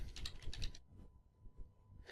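Quick bursts of typing on a computer keyboard in a SolidWorks 2020 session, a clustered run of close key clicks, then a pause and a final single tap.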